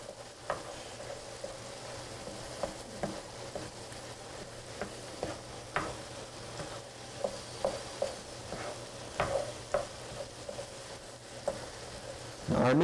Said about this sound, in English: Now our meat is starting to brown